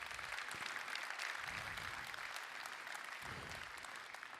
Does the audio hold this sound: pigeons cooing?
no